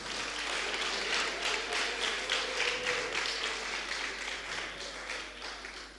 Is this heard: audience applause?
yes